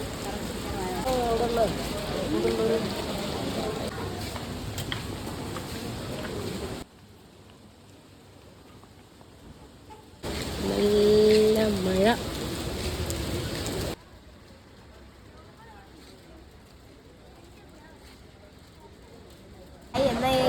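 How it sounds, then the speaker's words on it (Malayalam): Rain pours down in dense, steady bursts that cut in and out, with a voice speaking faintly beneath. "നല്ല മഴയും തണുപ്പും"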